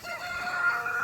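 Small chicken in a back yard near a little semi-chicken coop, heard as a steady, fairly faint fowl call with a sustained crowing tone, alone without talk.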